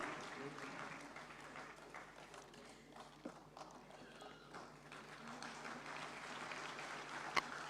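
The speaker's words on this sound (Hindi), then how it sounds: "हम चाहेंगे जोरदार तालियां इनके लिए." Audience applause at a national conference of rural cooperative banks during an awards presentation, a steady moderate patter of clapping from a crowd that carries through the whole stretch with a couple of sharper claps near the end.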